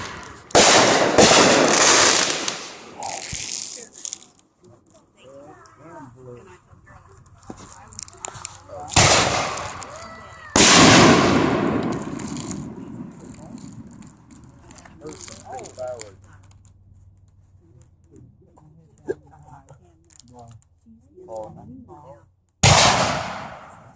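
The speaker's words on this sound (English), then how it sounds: "This is a great place to do fireworks" Fireworks exploding outdoors at night, several loud booming bursts spaced apart with crackling tails between them, while people talk and react nearby.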